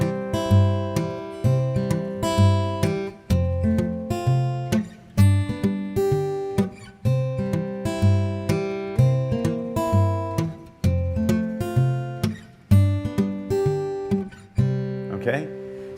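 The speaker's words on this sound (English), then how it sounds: "I'm going to lay the thumb in a bit more of a groove and keep the fingers going." Fingerstyle acoustic guitar playing a steady thumb-driven bass groove under continuous arpeggiated finger patterns, evenly plucked notes ringing clearly and alone at a moderate, even tempo throughout.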